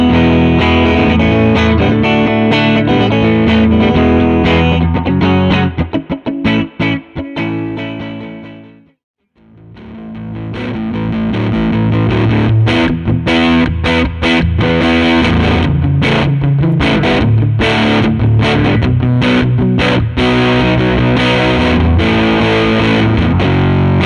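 Electric guitar played through a Scaling Pedals Portastudio-style tape-saturation pedal, giving a loud, dense, driven tone with full chords and picked phrases, a brief drop to near silence partway through, then resuming with strummed and picked playing.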